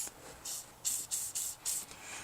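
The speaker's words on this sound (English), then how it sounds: "take our liquid wrench and spray it right on top like that" A few short, sharp bursts of penetrating oil sprayed from an aerosol can onto a nut hiss in quick succession, close by, with brief pauses between them.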